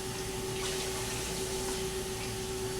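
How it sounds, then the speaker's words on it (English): Tap water runs steadily in a kitchen sink as raw sirloin tips are rinsed. It makes a continuous, even rushing flow with a faint pump-like hum and no talking. "Now, you can rinse your meat off."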